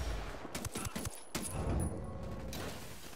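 Gunfire bursts in the video game Ghost Recon Wildlands, with rapid shots and clattering mechanical sounds layered over a busy, dense mix of game noise.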